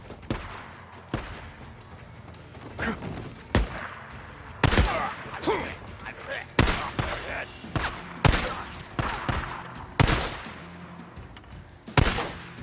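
Gunfire from the video game Days Gone rings out in loud bursts of sharp shots spaced every second or two. Some shots come in quick clusters, and a voice talks between them.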